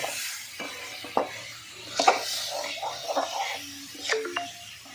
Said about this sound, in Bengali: কাঁঠাল বীজ আর আলুটা দিয়ে দিচ্ছি মশলার সঙ্গে এগুলো ভালো করে একটু কষিয়ে নিচ্ছে